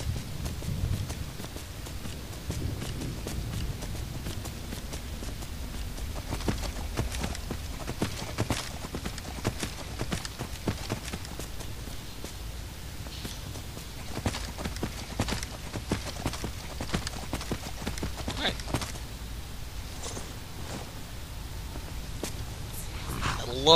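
Horse hooves gallop in the video game Skyrim, a fast, steady clip-clop rhythm running continuously over low ambient game sound, with a voice talking faintly at times.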